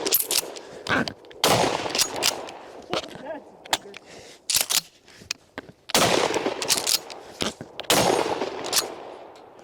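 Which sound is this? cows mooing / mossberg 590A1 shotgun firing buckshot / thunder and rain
mossberg 590A1 shotgun firing buckshot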